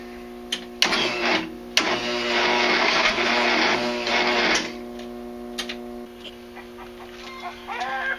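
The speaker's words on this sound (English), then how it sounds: "when it hits like that, should not be backfiring as much as it is" A flooded Craftsman Hydromatic engine runs roughly and lets out sharp, loud backfire pops among a sputtering mechanical drone, with the running rising and fading over several seconds.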